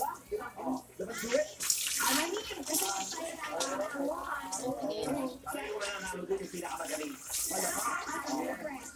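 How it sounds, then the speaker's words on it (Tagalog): Water splashes and rushes steadily into a basin or tub, fairly close, with a voice talking over the running water. "Itapon mo yung tubig na yan."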